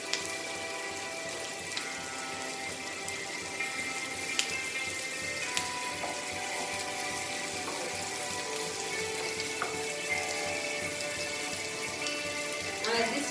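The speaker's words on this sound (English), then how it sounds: "Fry it on high flame because it is called fried rice." Fish fried rice with Goan-style seabass sizzles and crackles steadily in a pan over high flame, a close, continuous hiss with occasional sharp ticks and faint background hum.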